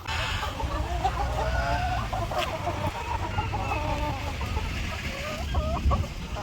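Farm hens in a coop cluck and chatter continuously at close range over a steady low hum, their calls overlapping throughout.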